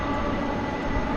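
A seven-year-old MD jet airliner waits at DFW airport at night, its engines giving a steady, loud, low rumbling drone with no breaks.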